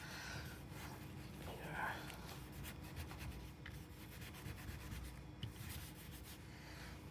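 Residue being scraped off a Dell Latitude 7640 laptop part during a motherboard replacement: faint, close, rasping strokes that repeat with a soft scratchy texture.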